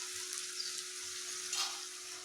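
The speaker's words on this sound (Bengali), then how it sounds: "এবার পেঁয়াজটাকে বেশ লাল লাল করে ভেজে নিতে হবে।" Sliced onion frying in oil in a pan over a low to medium flame, a soft, steady hiss of sizzling with slight swells, faint and continuous.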